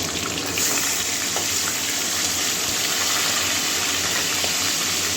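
Catla fish heads deep-frying in oil, a loud, close, unbroken rushing sizzle with a steady roar and no speech over it.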